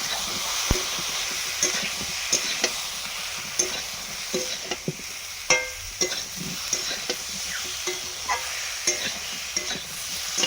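Cumin seeds and turmeric sizzle and spit in hot oil in a pan for a rohu fish curry, with steady frying hiss and scattered crackling pops throughout and no voices.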